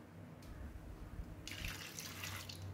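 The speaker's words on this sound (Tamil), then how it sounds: "இப்போ பருப்பு வேகிற அளவுக்கு தண்ணி விட்டுக்கலாம்." Water poured from a tap into a pot of lentils for onion sambar, a faint splashing stream that starts briefly, pauses, then runs more strongly over soft background noise in a home kitchen.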